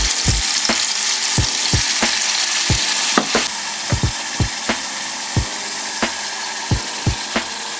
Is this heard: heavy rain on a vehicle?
no